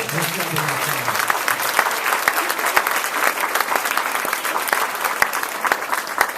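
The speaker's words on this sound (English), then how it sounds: "give him one more big round of applause." Audience applause at a fifth grade promotion ceremony, many hands clapping in a dense, continuous burst with sharp individual claps standing out, loud and steady throughout.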